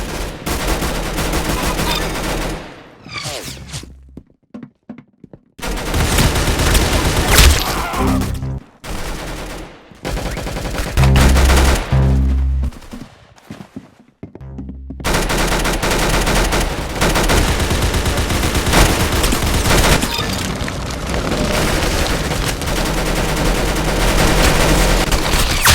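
Rapid gunfire in the Roblox game Arsenal, loud dense bursts of automatic shots broken by brief silent gaps, then resuming in sustained volleys.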